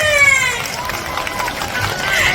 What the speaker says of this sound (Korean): 박수 더 크게!